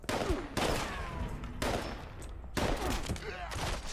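Rapid bursts of gunfire from the Fallout 76 video game on PC while fighting a legendary enemy, loud repeated volleys in several clusters with short gaps between them.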